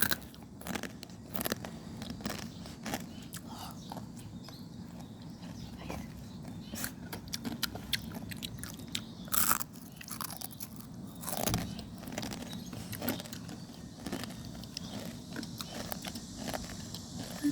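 Close crunching bites and chewing of crispy spicy fried chicken, irregular crackles and munches repeating throughout with faint low room noise and no talk.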